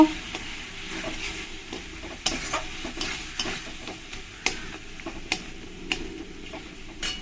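Cashew and poppy seed paste stirred into frying spices for a banana blossom and paneer curry, a soft steady sizzle under repeated scraping spoon strokes, close and moderately quiet with no talking.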